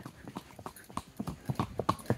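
A horse being trained for racing is led at a walk along a path to a field in the morning, its hooves clip-clopping in a steady, uneven rhythm, moderately faint and without talk.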